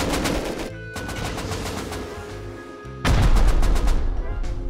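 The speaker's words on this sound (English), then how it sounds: "They're shooting it in now!" Rapid automatic gunfire in an online shooter as players shoot at a built base wall, rattling bursts that continue throughout and swell louder near the end, dense and close.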